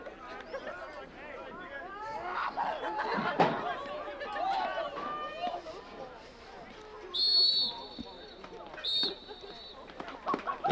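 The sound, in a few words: referee's whistle ending the first half of a soccer game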